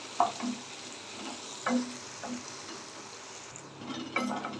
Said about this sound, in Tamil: வெங்காயம் வந்து கொஞ்சம் நல்லா வதங்கி வரட்டும் அது வரைக்கும் கொஞ்சம் வதக்கி விடலாம்